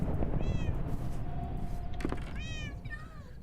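A pet cat in a Minecraft-style survival game meowing as it is struck by lightning, two short rising meows about two seconds apart over a low rumbling background.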